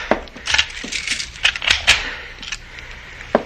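Door being locked from inside with a key, a string of close metallic clicks, scrapes and rattles from the lock that end in a sharp final click.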